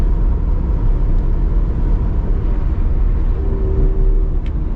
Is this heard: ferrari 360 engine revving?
yes